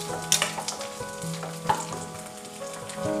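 Shallots sizzle and crackle in hot oil for a crab curry, a close, soft frying hiss with sporadic pops and light stirring taps.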